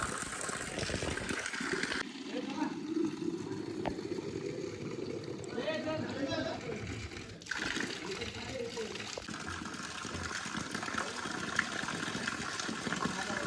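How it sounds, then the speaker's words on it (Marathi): A clear-water spring flows at Sudhagad fort, a steady close trickle and gush of running water with a voice talking over it. "हा वाहतोय तो निर्मल पाण्याचा झरा"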